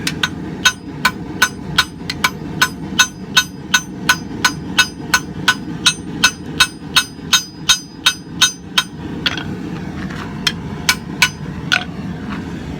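A cross peen hammer strikes hot steel while the blade of a small Viking axe pendant is spread and tapered: about thirty loud, evenly spaced ringing blows, with a brief pause before the hammering resumes.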